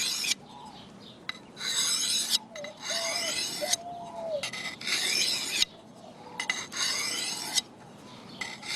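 A steel camp knife being drawn across a sharpening stone in steady alternating strokes, each a gritty rasping scrape lasting about a second, close and moderately quiet with brief pauses between passes.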